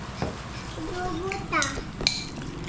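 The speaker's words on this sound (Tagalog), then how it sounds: "Haluin muna natin ito." A utensil stirs spaghetti in a pot, making a few scattered metallic clinks and scrapes while people talk nearby.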